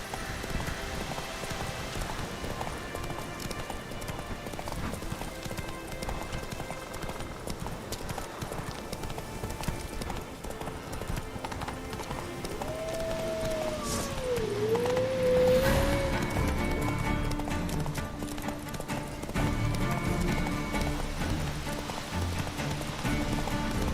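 Hooves of Roach the horse clip-clop in a steady trotting rhythm in the video game The Witcher 3, with rain pattering in the background and a brief horse whinny in the middle.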